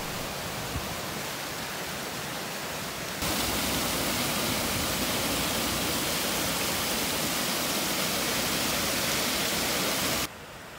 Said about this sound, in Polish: Dochodzimy do kaskady na Potoku Oliwskim.